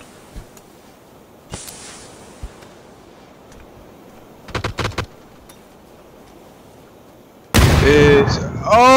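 Short bursts of gunfire followed by a loud grenade-like blast in the video game H1Z1, quick rattling shots mid-clip then a sudden heavy burst near the end with shouting voices layered over it.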